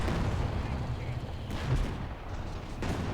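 A 17-pounder anti-tank gun fires in the Company of Heroes 2 strategy game, heavy booming blasts over a dense rumble of battle noise, with a loud report near the middle and another toward the end.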